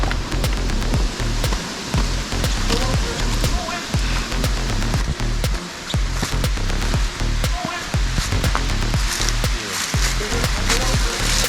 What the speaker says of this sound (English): There's that waterfall. Nice little stream feeding it.